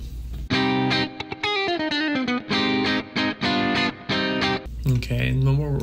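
An electric guitar played through a Neural DSP Quad Cortex with a reverb effect, a run of distorted sustained notes and chords with a ringing tail, sounding loud and close.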